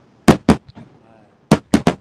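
Fireworks burst at the Nagaoka festival's large display, five sharp, loud cracking bangs, two close together, a pause, then three more in quick succession.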